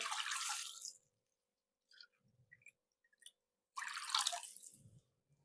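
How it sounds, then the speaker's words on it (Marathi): Water is poured into a pan of tomato puree for curry in two short bursts with a gap between them, close by, with a few small clinks and drips in the pause. "पाणी घालूया"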